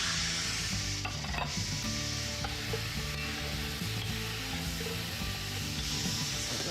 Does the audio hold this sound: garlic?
yes